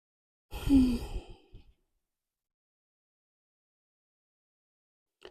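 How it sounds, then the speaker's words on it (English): One long, deep sigh-like exhale from someone relaxing on a bed during a gentle yoga stretch, followed by a short breath and then near silence. "Breathing deeply, relaxing on the bed."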